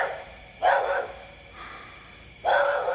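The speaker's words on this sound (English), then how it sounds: "The man's got a dog." A dog barks twice a couple of seconds apart somewhere near a wooded rural property, fairly loud against quiet outdoor background, with no talk.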